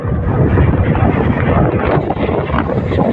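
Strong wind roars and buffets steadily for the whole stretch, loud and close, with no pauses.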